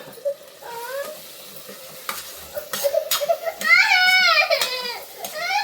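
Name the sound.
cooked mutton added to pan, stirring and sizzling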